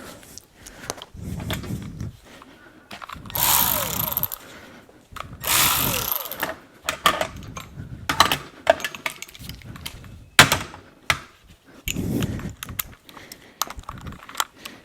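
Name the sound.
power tool removing compressor bracket bolts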